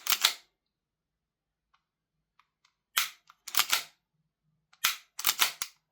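Trigger pulls and action clicks of a Kizuna Works Basilisk BSK43 airsoft pistol, a handful of sharp snappy mechanical clacks, some single and some in quick pairs, close up with quiet gaps between them.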